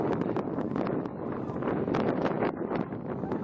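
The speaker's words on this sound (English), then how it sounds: "Probably can't hear me because of this wind." Outdoor wind in Clinton County buffets the microphone in loud, gusty rumbles that rise and fall continuously across the few seconds, with no voice heard.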